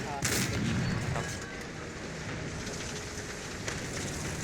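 Tank cannon fire from a Tiger II P in War Thunder, with a sharp blast and a dense rumbling battlefield roar continuing throughout, plus a couple of further distant reports.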